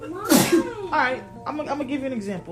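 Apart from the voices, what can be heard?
sneeze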